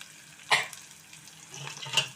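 Bitter gourd with salt and turmeric being stirred in a pan, a quiet soft sizzle with two short scraping strokes of the spoon.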